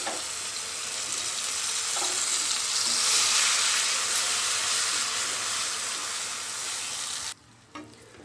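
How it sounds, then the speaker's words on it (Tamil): Cloves, cardamom and pineapple fry in ghee in a pan, giving a strong continuous sizzle with soft stirring scrapes that drops away abruptly near the end. "அதில் இந்த லவங்கம், ஏலக்காய் இதை போட்டு ஃப்ரை பண்ணிடலாம்"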